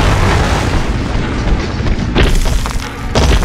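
A rocket launcher blast in the Hulk 2003 video game booms loudly and continuously over a rumbling low end, with a sharp burst around two seconds in and more impacts following.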